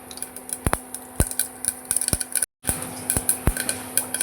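Mustard seeds pop in hot oil while cooking potato masala curry, sharp irregular crackles and ticks scattered over a steady sizzle, with a brief cut partway through.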